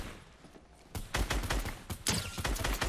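Rapid gunfire in a competitive battle-royale video game, a dense run of loud, close shots and bursts that starts after a quieter stretch and continues to the end.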